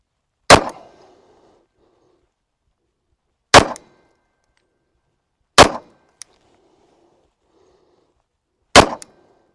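Four sharp, loud pistol shots from a Taurus PT-100 .40 caliber fired at targets seven yards away, spaced a few seconds apart, each with a short echoing tail at an outdoor range, no talking.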